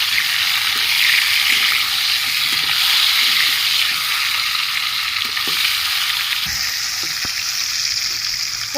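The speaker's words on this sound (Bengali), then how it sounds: "কড়াইয়ের তেল গরম হয়ে গেছে পটলগুলো আমি ভেজে নিচ্ছি" Steady, loud sizzling of pointed gourds frying in hot oil in a kadai, a continuous crackling hiss with occasional stirring clatter, no voices.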